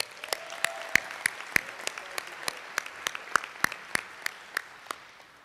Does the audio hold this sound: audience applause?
yes